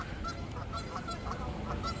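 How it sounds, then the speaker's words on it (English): Geese honk repeatedly outdoors at Disneyland in the morning, short nasal calls spaced through the clip over a steady background rumble, moderately distant and fairly faint. "the geese are out there singing"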